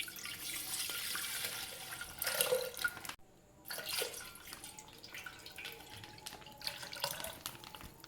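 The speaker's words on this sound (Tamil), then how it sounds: "பாலை வந்து ஃபஸ்ட்டு பாத்திரத்தில் ஊற்றிக்குங்க." Milk being poured into a cooking vessel for homemade curd, a close steady liquid stream with a brief pause, then more pouring and splashing.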